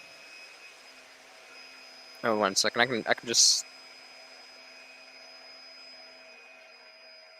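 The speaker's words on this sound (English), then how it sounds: "Okay, the vacuum's not too bad." A vacuum cleaner runs steadily in another part of a home, a faint constant hum under a brief stretch of close speech.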